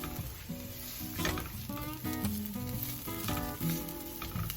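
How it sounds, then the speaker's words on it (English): Onions sauteing in a pan give a steady, close sizzle and crackle, with frequent spatula stirring scrapes over it and no talking. "First, we're going to saute our onions."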